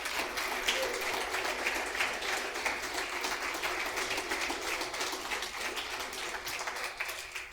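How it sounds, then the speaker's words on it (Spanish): A church congregation applauds the women present at a Sunday gathering, a continuous, moderately distant round of clapping that stays steady throughout. "yo quisiera, por favor, darles un aplauso a ustedes las damas"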